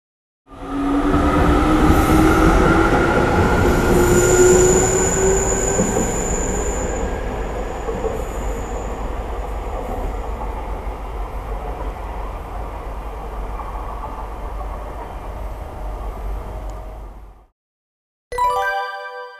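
A JR Kagoshima Line local train rolls past nearby, its loud rumble and high wheel squeal slowly fading over many seconds before a short burst of sound at the end.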